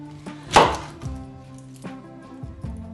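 A knife slices through a big peeled onion on a kitchen board, giving a few distinct thunking chops spaced irregularly, one louder cut followed by softer ones, close and clear with no talking.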